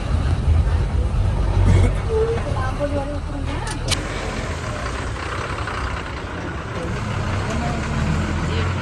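A state transport bus sits idling during a stop on the road to Amboli, a steady low engine drone with cabin noise and some talking inside, holding at an even level throughout.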